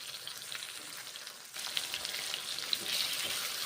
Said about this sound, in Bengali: এখন ঝিঙ্গেগুলো মুসুরির ডালগুলো ভেজে নিচ্ছি